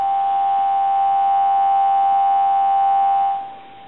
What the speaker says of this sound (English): We're going to give you some dial tone.